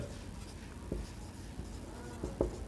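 Pen writing on paper while solving a determinants problem, soft scratchy strokes with a few brief taps, faint and close, with no voice over it.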